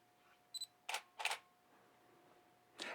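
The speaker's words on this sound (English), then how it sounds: "To take the picture, just press the shutter button." Nikon D5000 in Live View firing its shutter: a faint beep, then two quick mechanical clack bursts a moment apart, followed by another clack after a short quiet pause, crisp and close in a quiet room.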